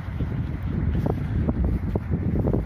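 A homemade wind turbine spins in steady wind, its low continuous whooshing rumble mixed with gusty wind noise on the microphone and faint periodic rhythmic pulses throughout.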